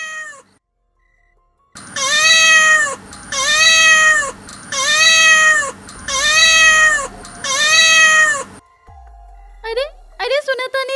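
A ghostly black cat in a Bhojpuri horror cartoon meows five times in a loud, even, evenly spaced series of long wails, followed by a short burst of brighter chiming sounds.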